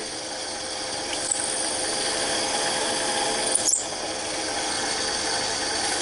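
A wood lathe turning and sizing the beak of a penguin Christmas ornament: a steady, continuous whirring hum with a thin hiss of cutting, close and fairly loud, with a brief scrape of the tool near the end.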